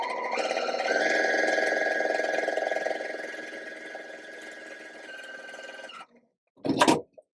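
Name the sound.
sewing machine stitching a seam on fabric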